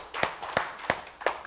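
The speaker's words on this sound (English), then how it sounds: "Let's give them a hand clap." Church congregation clapping for the worship team, four sharp hand-clap bursts at an even spacing, fairly close and alone over a quiet room.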